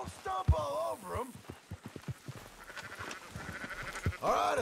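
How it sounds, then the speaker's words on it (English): Sheep bleat several times in Red Dead Redemption 2, the wavering calls near and clear, opening and closing the passage, with soft hoof thuds and game ambience between them. "Marston, why don't you leave the sheep to me?"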